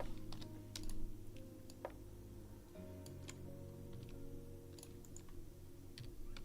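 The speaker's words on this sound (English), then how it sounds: "I like to use my keyboard to move stuff, to shortcuts" Computer keyboard keys tapped in quick irregular clicks for animation shortcuts, close and fairly quiet over a steady low hum, with no talking.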